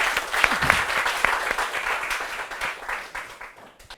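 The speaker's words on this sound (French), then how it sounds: "Est-ce qu'on peut l'applaudir encore, s'il vous plaît?" A comedy show audience applauds a comedian, a dense, steady wash of clapping that fades gradually toward the end.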